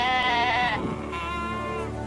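A goat gives a single loud, wavering bleat at close range, ending abruptly and followed by a quieter low background hum.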